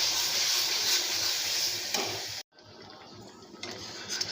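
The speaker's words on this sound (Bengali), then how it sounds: "তোমাদের মাপ মতো একটুখানি কসুরি মেথি আর চাট মশলা দিয়ে ভালো করে ভাজা ভাজা করছি" Spices with kasuri methi and chaat masala fry in a pan with a steady, bright sizzle that breaks off briefly and then resumes more softly, alone and close up.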